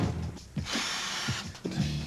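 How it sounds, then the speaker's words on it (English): A power drill bores into panels on Blackpool Coronation Tram No 304, heard as short bursts of whirring, grinding noise with brief pauses between them. "You drill them, I'll fill them."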